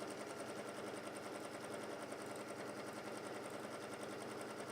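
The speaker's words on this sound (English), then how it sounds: "What we're going to do now is we are just going to sew all the way around." A sewing machine runs steadily for a long continuous seam around a small fabric piece, its fast needle chatter a constant, fairly quiet whir with no pauses or talking.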